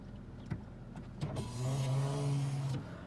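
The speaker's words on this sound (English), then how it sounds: "Rear sliding window." The power rear sliding window of a 2017 Toyota Tacoma pickup hums as its electric motor runs for about a second and a half, preceded by a couple of soft clicks inside the cab, close and moderately loud.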